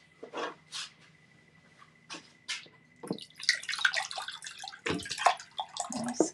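Clean water runs and splashes from a tap for an enamelling job, starting after a few soft knocks and continuing as a hissy, close stream with irregular splashes.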